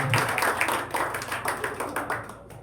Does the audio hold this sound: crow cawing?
no